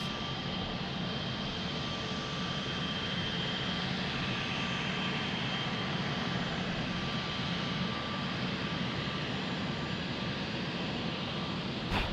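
Wizz Air jet airliner at Lisbon Airport, its engines making a steady broadband roar that stays loud and even throughout, with a faint tonal whine running underneath and no voices.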